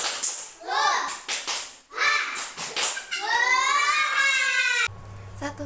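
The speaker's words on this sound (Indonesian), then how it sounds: "kakak mau mengajak adik-adik untuk tepuk semangat" Young children doing a rhythmic spirit clap at the end of a classroom learning activity, their voices chanting loudly in unison between bursts of quick clapping, with a brief hum at the end.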